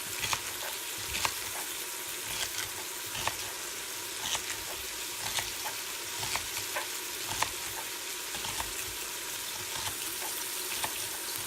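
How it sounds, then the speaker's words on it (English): Onions and garlic sizzle steadily in butter in a hot pan, with regular scraping taps of stirring breaking through the constant frying hiss; no voices. "I love the way onions and garlic smell when they're cooking in butter."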